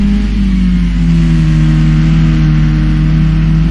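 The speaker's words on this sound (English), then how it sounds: "Heard him just get off the throttle and slow the car down a bit." A touring car engine in the video game Project Cars 2 at Oulton Park drones loudly and steadily, its pitch easing slightly downward as the car backs off the throttle, with no voices.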